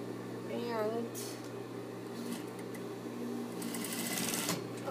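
Sewing machine running a straight stitch with a short back stitch, a steady mechanical hum with faint rattling pulses, soft and close, under occasional quiet background talk.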